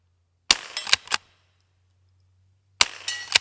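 A Henry pump-action rimfire rifle fires at cans outdoors: two loud, close groups of sharp cracks and quick mechanical clacks, separated by about a second and a half of near silence.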